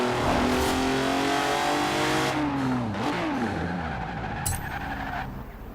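The engine of the Hot Wheels Twin Mill in the Forza Horizon 4 racing game roars loudly and steadily, its revving pitch holding and then dipping and sliding as the car shifts and accelerates.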